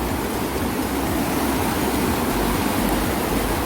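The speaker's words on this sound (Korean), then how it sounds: "시원해 보이죠 물소리" Water flows near a deck campsite on a rainy camping day. It is a steady, dense rushing hiss with no pauses, close and fairly loud, and no voices are heard.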